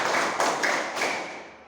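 Hand claps from an elementary-school classroom clapping game, with three or four crisp, closely spaced claps up front that fade into room noise.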